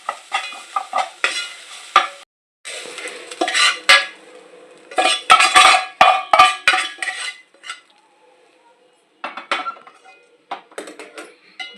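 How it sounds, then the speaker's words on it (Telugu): Mint and curry leaves fry in a pan with a soft sizzle while a spoon stirs and scrapes in repeated bursts, with metallic clinks against the cookware, pausing briefly before resuming. "మంచిగా ఫ్రై అయిపోయింది పుదీనా కరివేపాకు."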